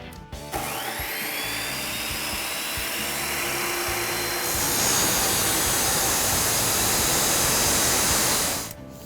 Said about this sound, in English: I'm just going to use an abrasive chop saw, because it will go through it like butter